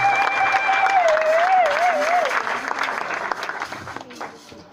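A church congregation breaks into loud applause and acclaim, with a sustained sung or shouted tone rising over the clapping before it fades out.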